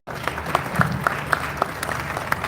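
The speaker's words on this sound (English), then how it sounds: "Can we give them a round of applause?" A conference crowd in Ghana claps for speakers and panelists, dense applause starting abruptly with scattered loud close claps popping over the wash, some faint voices mixed in.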